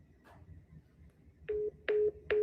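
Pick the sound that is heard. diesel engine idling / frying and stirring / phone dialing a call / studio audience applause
phone dialing a call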